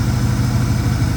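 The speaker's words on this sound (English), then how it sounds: "the car is idling a lot smoother right now." A 1981 Daytona 500 pace car with a GM CCC computer-controlled engine idles with a loud, steady low rumble and even pulsing beat, close up and with no talking.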